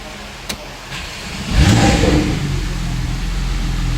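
A Porsche 911 engine cranks and fires after a couple of faint clicks, catching with a loud revving surge and then settling into a steady idle.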